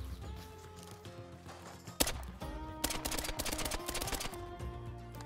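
Gunshots from a .22 rifle in theHunter: Call of the Wild, a sharp crack followed by a rapid cluster of further shots over a steady background hum of the game's ambience.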